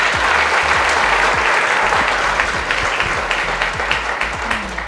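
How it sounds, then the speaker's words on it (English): A crowd applauds steadily at a school speech contest at CIMAGE, with dense, loud clapping held at an even level for about five seconds and a low hum underneath. "A big round of applause to her."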